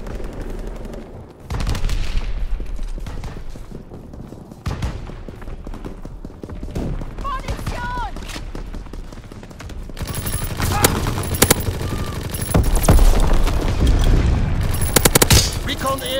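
Gunfire in Call of Duty: WWII team deathmatch crackles in rapid bursts and sharp single shots, with heavier automatic fire in the second half, while game voices call out between the shots.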